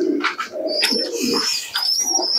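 A closed-tail desi Giribaz pigeon at a pigeon sale coos in low, throaty bursts, with a few brighter chirps from other birds close by.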